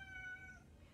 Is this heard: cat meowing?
yes